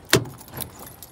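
Keys jangle sharply once and then rattle briefly while a driver locks a natural-gas-powered delivery truck before unloading; close, quick metallic clinks with no talking.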